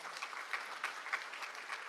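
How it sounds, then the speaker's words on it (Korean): Faint applause from an audience at a Constitution Day ceremony at the National Assembly, greeting the Biseul dance troupe after their opening performance; steady, distant clapping alone. "감동적인 무대를 선사해 주신 비슬무용단 여러분께 다시 한번 큰 박수 부탁드립니다"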